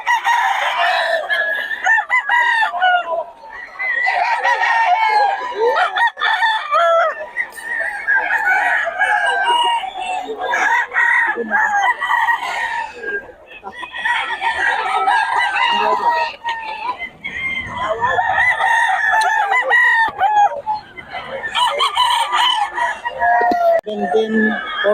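Roosters and hens at a poultry seller's yard in Bocaue crow and cluck in overlapping bursts throughout, loud and close, with clucking filling the gaps between crows.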